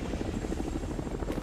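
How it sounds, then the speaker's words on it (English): Helicopter arriving in the video game Saints Row IV: a loud, close rotor beat with rapid rhythmic thumping and a steady whine running throughout. "I like the helicopter coming in and the music being an obvious homage to Predator"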